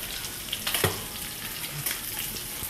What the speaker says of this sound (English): She's stirring it, and you can tell now that a lot of the sides now have gotten really, really brown and toasty